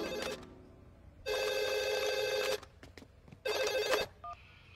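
A cartoon telephone bell rings in two long, loud, buzzy bursts separated by a pause, with small clicks and short tones in between.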